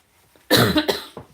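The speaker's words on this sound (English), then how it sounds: "go live and cue the cough" A single sharp, close cough bursts out after a moment of near silence, followed by a couple of smaller throaty coughs that taper off.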